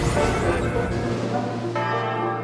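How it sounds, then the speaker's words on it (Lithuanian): The bell in the cathedral bell tower in Vilnius ringing loud and close overhead, a deep resonant toll with a long humming decay. "Katedros varpinėje stovi, o virš galvos muša varpas."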